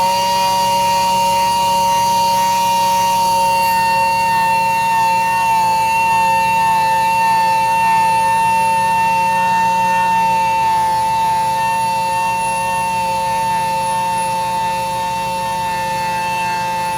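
A power sander works curb rash out of a Porsche wheel, holding one steady, continuous high whine for the full stretch with no voices.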